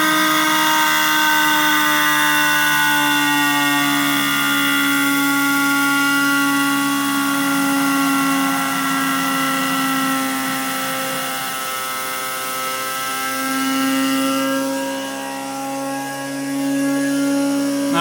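A laboratory reaction turbine spins at around 18,000 rpm under a brake band load, producing a loud, steady high-pitched whine with sustained tones that dip and waver slightly as the speed changes.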